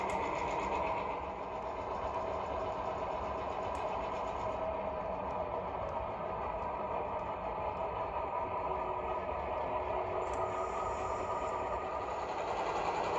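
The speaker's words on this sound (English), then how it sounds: "We can go couple back up on the cars on the ladder and pull them back in the yard." A locomotive works in a rail yard, coupling onto rail cars on the ladder track and pulling them in: a steady, fairly faint mechanical rumble and hum that continues without a break.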